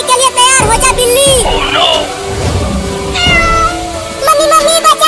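A cat meows several times, in a high, wavering tone, through a noisy cartoon scene with children's voices talking loudly over and between the cries.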